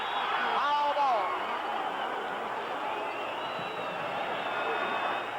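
Baseball stadium crowd roars steadily after a foul ball with two strikes and two outs in a perfect game, a dense sustained cheer under a commentator's talk.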